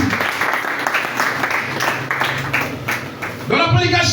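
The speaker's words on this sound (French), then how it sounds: "Acclamons d'abord pour le Seigneur afin de nous montrer." A church congregation claps for the Lord in a steady run of applause under a preacher's voice, with rhythmic hand claps and a louder burst near the end.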